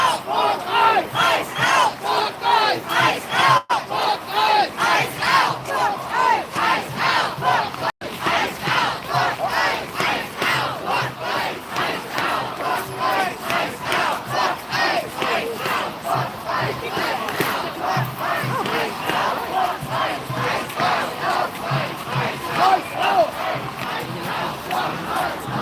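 A large street protest crowd in downtown Minneapolis chants in a loud, steady rhythmic cadence, pulsing beat after beat with brief breaks, close and sustained throughout.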